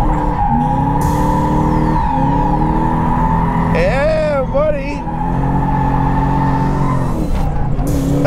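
A Lexus IS200 fitted with a 1UZ engine drifts around an international race track, its engine droning loud and steady while tires squeal in wavering chirps midway through, with no talking.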